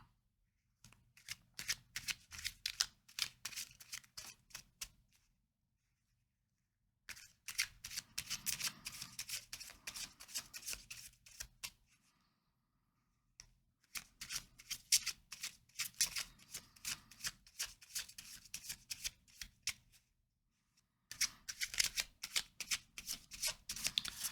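Tarot cards riffled and shuffled in four long bursts separated by short pauses, a crisp papery flutter heard up close with no voices.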